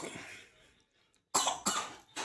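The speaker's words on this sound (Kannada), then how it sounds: "ಕೆಮ್ಮು ಬಂತ? ಕೆಮ್ಮು?" A few short, sharp coughs close to the listener, a quick cluster of bursts after a brief silence, with faint murmuring before.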